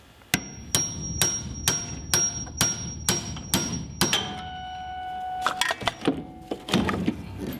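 Hammer on metal knocking a hinge out of a Jeep Cherokee door: about eight evenly spaced sharp strikes, then a few irregular ringing clanks and taps, close and loud, with no talking.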